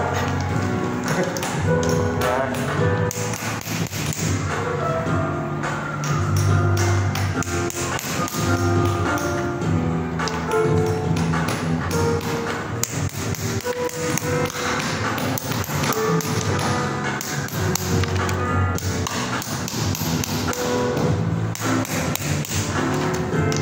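Steady, repeated hammer blows on floor tiles during tile replacement, ringing out amid a dense, busy background, continuing without pause throughout.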